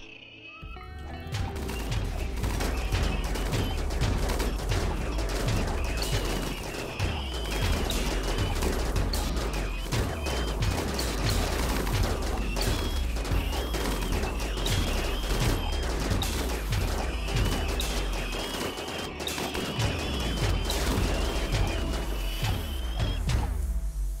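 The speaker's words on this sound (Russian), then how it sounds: "И пока они доберутся до точки входа, их немножко поковыряют защитные турели, которые установлены возле наших охлаждающих градирин." Defensive turrets in the video game Rimworld fire at a mechanoid raid, a fast, continuous stream of loud repeating gunfire bursts layered over dense battle noise throughout.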